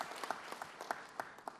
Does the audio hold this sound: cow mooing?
no